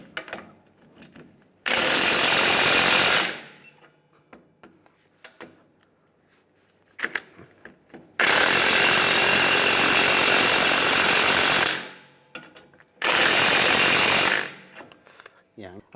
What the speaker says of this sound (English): Using a 21mm socket, we're going to take all the U-bolt nuts off.